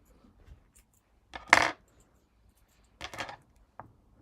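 Scissors set down on a work surface while a Morsbag fabric bag is being made: two clear clattering knocks a second or so apart, then a small tap, close and fairly quiet.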